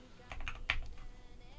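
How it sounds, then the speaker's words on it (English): A computer keyboard typed on briefly while entering a device address, a few quick close key clicks in a short burst, then quiet. "I'm just going to type it in, see if that works."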